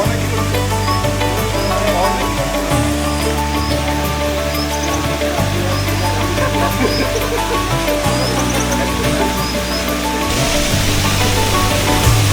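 Waterfall beside a river on the Everest base camp trek in the Himalayas, a steady, loud broadband rush of falling water with low rumble, continuous throughout.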